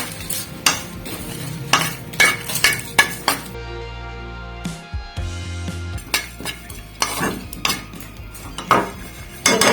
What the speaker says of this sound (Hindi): इसको हम लोग अब ड्राई रोस्ट कर लेंगे तमाम मसालों को